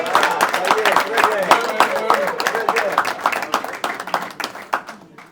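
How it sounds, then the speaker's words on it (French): Graduation ceremony crowd applauding a graduate, dense steady clapping throughout that thins slightly toward the end, with voices mixed in. "Allez, des grands applaudissements s'il vous plaît"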